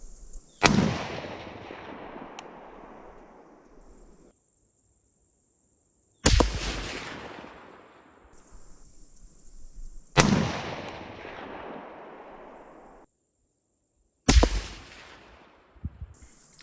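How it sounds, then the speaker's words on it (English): Four rifle shots fired at a target during zeroing, each a sharp loud crack with a decaying echo, spaced about four seconds apart with quiet between, no talk. "I'm going to put 2 more rounds on the target and see where that gets me."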